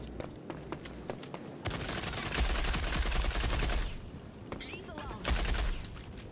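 Rapid automatic gunfire bursts in the shooter game Rogue Company, loud sustained volleys of shots with brief pauses between them, mixed with game effects.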